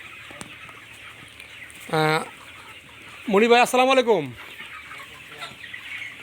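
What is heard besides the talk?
Sonali cock chickens clucking on a poultry farm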